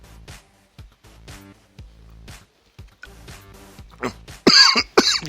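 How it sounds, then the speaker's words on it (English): Coughing after a dab hit, a few sharp loud bursts near the end following quieter breathing and movement. "No coughing, no coughing."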